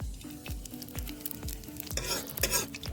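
Dry spices fry in hot oil in a kadai for rajma curry, giving a steady close sizzle broken by regular stirring scrapes roughly every half second, with no voices.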